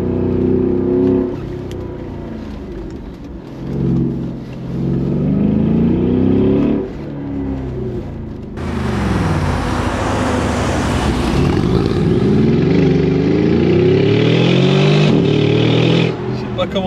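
A Mercedes G700 Brabus accelerating, its engine rising loud and rough with pitch sweeps as it revs through gears, a voice speaking over parts of it.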